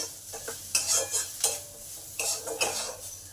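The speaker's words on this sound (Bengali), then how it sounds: "দু মিনিট ধরে মশলার সঙ্গে ভালো করে এটাকে ভাজা ভাজা করে নেব" Soybean being fried with spices in a pan sizzles continuously while a spatula stirs and scrapes against the pan in repeated close bursts.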